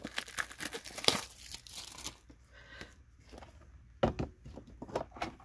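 2021 Topps Series 1 baseball card pack being torn open, close crinkly foil rips and crumpling in bursts, a quieter pause, then more sharp tearing.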